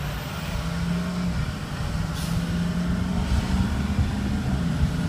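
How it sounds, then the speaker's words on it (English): A 2004 Ford F350 pickup with an automatic transmission drives along, its low engine and road rumble steady and continuous with slight shifts in pitch as it moves. "the 5-speed automatic transmission shifts correctly"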